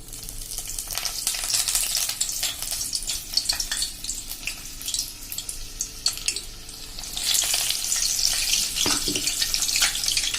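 Coriander bhajiya fritters fry in hot oil on a gas flame, giving a loud, steady bubbling sizzle with brief crackling bursts and a louder surge toward the end, close up and without speech.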